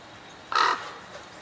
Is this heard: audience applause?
no